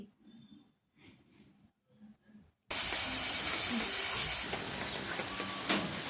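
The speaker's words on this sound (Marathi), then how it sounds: "आता तो तेलामध्ये ना या फोडणीत चांगला असा लाल होऊन देते." Finely chopped onion drops into hot oil already tempered with mustard seeds and bursts into a loud, continuous sizzle and hiss. Quiet voice-like sounds come before it.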